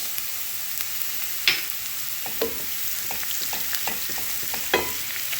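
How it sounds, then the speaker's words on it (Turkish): Chopped onion and spices sautéing in oil in a pan, a soft steady sizzle broken by several sharp scrapes and stirring clinks, close and moderately loud with no talking. "Yağımızda bu şekilde soteliyoruz."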